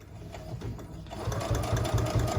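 A sewing machine runs stitching fabric for a pillow with a pocket, its needle chattering in a fast, even rhythm that picks up and grows louder partway through, close to the listener.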